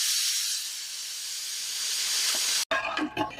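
A pressure cooker with lentils, ginger and green chilli inside hisses loudly with a steady rush of escaping steam for most of the time, then cuts off abruptly, followed by brief clattering and rattling.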